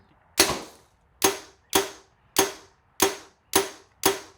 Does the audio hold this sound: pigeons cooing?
no